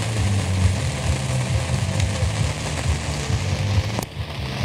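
Steady rain falling on a festival campsite's tents and tapestries on a Friday evening, a continuous dense patter with a low rumbling hum underneath and a brief sharp tap near the end, no talking.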